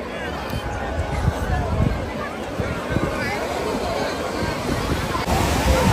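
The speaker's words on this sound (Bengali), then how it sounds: "ফাইনালি চলে এসেছি আমরা দীঘার সমুদ্রে, আর একবার ভিড়টা দেখো, মারাত্মক ভিড় আজকে দীঘায়" Sea waves wash onto a crowded Digha beach under a constant babble of many voices and some wind buffeting, with surf and crowd mixed together throughout.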